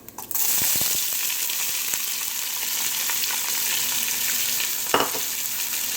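Onions frying in a pan for a green capsicum and potato dish, giving a steady, dense sizzle close up, with occasional soft scrapes and taps of a spoon stirring them.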